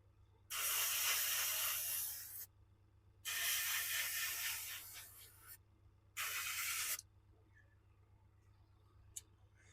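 Three bursts of aerosol spray paint hissing onto a model railway signal box, each lasting one to two seconds with short pauses between and the last one shortest, over a faint steady low hum.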